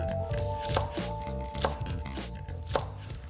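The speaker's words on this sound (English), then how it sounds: "With our green onions, we have to cut them at a little bit of an angle just to make it look a little different." A knife slices green onions at an angle on a cutting board, giving crisp, fairly quick, evenly spaced chops that are close and clear with no talk.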